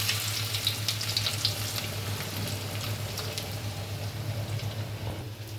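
Onion frying in hot oil for a shutki dish, a soft, steady sizzle and bubbling hiss with occasional light crackles, continuous and fairly quiet, without speech.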